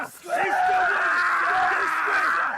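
Marine recruits scream at a drill exercise, a sustained wall of many overlapping shouting and wailing voices, loud and close, with no break.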